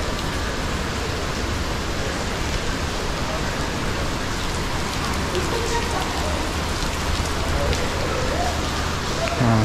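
Heavy rain pours down steadily at a mosque in Kuala Lumpur, a loud, even wash of drops on surfaces with faint voices now and then beneath it.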